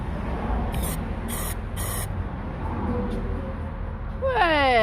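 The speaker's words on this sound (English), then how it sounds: "Get a tube and you spray." Aerosol spray paint blasted through a tube onto a small area while fitting a reverse camera in a UK camper van, heard as three short hissing bursts over steady background noise.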